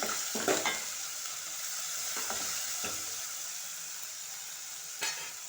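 Onion curry with salt being stirred in a pan, a few scraping strokes of a spoon over a continuous soft sizzle, with no talking.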